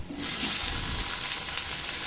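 Loud, close sizzling of garlic frying in a hot pan, a dense hiss that starts abruptly and holds steady to the end with no voices.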